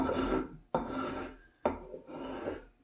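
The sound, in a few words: block plane taking fine cuts in wood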